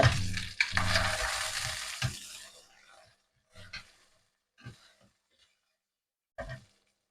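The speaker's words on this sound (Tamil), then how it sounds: "மிளகாய் வதங்கட்டும்." Chili hits a hot pan with a loud burst of sizzling for about two seconds, then the frying fades to quiet with a few short, sharp stirring or scraping sounds spaced apart.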